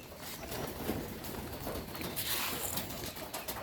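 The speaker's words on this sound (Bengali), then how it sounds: "অনেক ক্ষুধার্ত কবুতরগুলো" Hungry pigeons coo softly in the background amid a busy hiss of ambient noise, with faint fluttering and scattered clicks.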